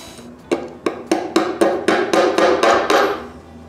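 Small nails hammered into a wooden intarsia Harley-Davidson motorcycle piece, about eleven sharp taps quickening into a steady rhythm, close and crisp.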